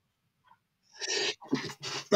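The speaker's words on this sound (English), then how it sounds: "I feel a sneeze coming on" A single human sneeze, indoors during a football match watchalong, starting with a sharp inhaled burst, then a loud close explosive release followed by brief trailing bursts.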